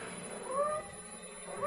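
Cat in an old radio drama: a drawn-out, wavering meow rising and falling, followed by the start of another, heard close over a steady background hiss.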